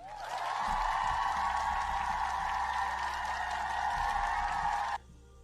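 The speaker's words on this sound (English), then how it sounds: "Let me give you a cheer." A cheering crowd sound effect plays as a sustained, roaring wash of voices and applause for about five seconds, then cuts off abruptly.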